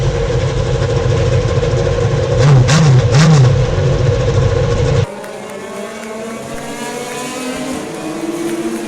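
IndyCar race cars with V6 engines idling and revving loudly in a steady drone with rising and falling pitch sweeps, then cutting abruptly to a thinner, quieter engine hum.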